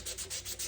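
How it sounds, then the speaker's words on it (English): Quick rhythmic strokes of hand finish sanding on a knife, a steady scratchy rubbing that swells and fades about every tenth of a second, close and alone. "hand finish sanding on this."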